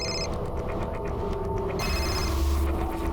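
Telephone ringing indoors in a crime drama scene, a repeated electronic bell ring at moderate level with a steady low hum underneath, no voices.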